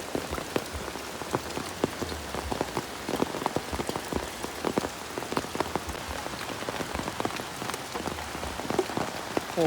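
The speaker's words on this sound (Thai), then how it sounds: "โอ้ยินแรงเลยเนาะแต่ว่ามีแต่ยินแต่เสียงฝน" Heavy rain pours down at Vang Vieng by the Nam Song river, a dense, steady patter of drops hitting surfaces that continues for the whole stretch, with no voices.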